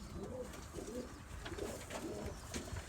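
Birmingham Roller pigeons coo repeatedly in breeding season, with soft, throaty, rolling calls that overlap in a close, steady chorus and carry no speech.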